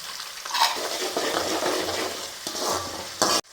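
Garlic and ginger frying in a pan of oil for a lemon and date pickle, a bright continuous sizzle with stirring swells, loud and close, cutting off abruptly near the end.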